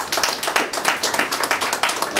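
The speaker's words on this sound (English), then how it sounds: "can we get a round of applause for Yara?" A round of applause at a community health event, with a few people clapping in a clear, quick, fairly regular rhythm, individual claps standing out up close rather than a dense crowd roar.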